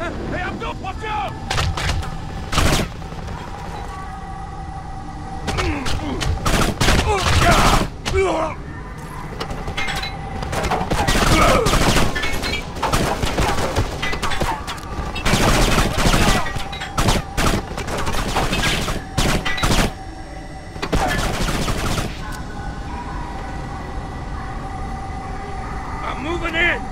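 Heavy gunfire fills a firefight in the video game Kane & Lynch 2: Dog Days, with dense bursts of automatic shots, booming blasts and sirens, loud and nearly continuous, while voices shout over the chaos.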